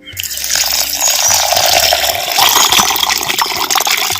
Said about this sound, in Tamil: அதுக்கு தேவையான அளவு பச்சை தண்ணி சேர்த்துக்கிறேன்